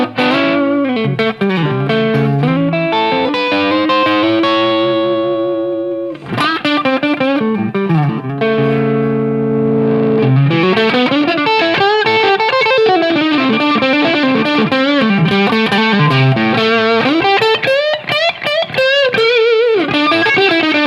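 An Aria Pro II 350 electric guitar played through its neck P.A.F. Classic Custom pickup with distortion, loud and sustained chords and melodic lines ringing out with a short break around six seconds, no talking.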